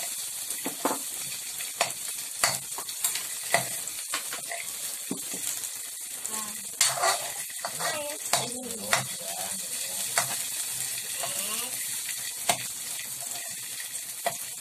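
Red onion sizzles and is stirred in a pan while making ramen from instant noodles, a continuous hiss broken by frequent scraping clinks and bursts of spatter, close by.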